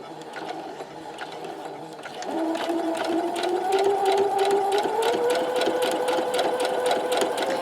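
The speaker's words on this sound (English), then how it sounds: "going to sew just on the opposite side of the line where you're going to trim the piece" Steady rhythmic whirring of a sewing machine stitching a quilt block seam, close and continuous, getting a little louder and faster partway through as it settles into an even pace.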